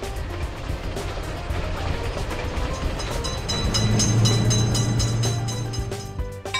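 In the game Indian Train Simulator, a train rumbles toward a level crossing with a steady, loud rail roar that builds midway, and a low horn-like tone sounds briefly.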